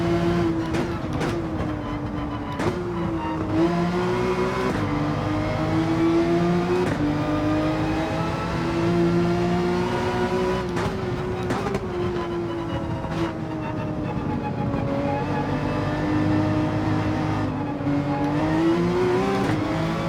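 A Porsche 911 race car in the Gran Turismo 7 racing game, its engine loud and continuous, revving up through repeated gear changes with rising and falling pitch for twenty seconds.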